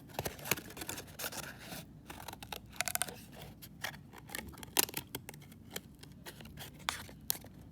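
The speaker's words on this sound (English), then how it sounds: "I'm going to cut out my butterfly" Scissors snip through paper while cutting out a paper butterfly for a mixed-media collage, giving a steady run of close, crisp cuts and rustles with sharper snaps scattered throughout.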